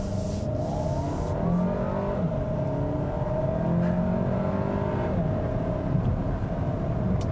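Steady road noise and a low engine hum from inside a moving 2017 Volkswagen Golf Alltrack, with a smooth rise in engine pitch as it accelerates.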